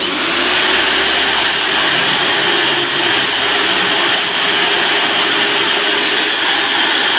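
A drill machine spins steadily while a steel rod or small screwdriver scrapes the piston ring of a boat engine. It makes a continuous, loud, even whine with a constant high tone and no pauses or voices.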